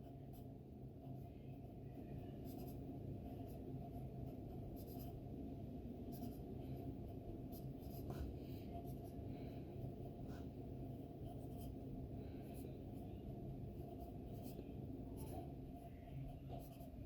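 Scratchy strokes of a pen or pencil writing numbers on paper, close and steady, with no talk.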